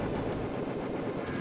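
Cannon fire from the Super Mega Cannon in the Super Famicom game Gekisou Sentai Carranger, heard as a loud, sustained rumbling blast that fills the brief moment with dense low booming and no talk.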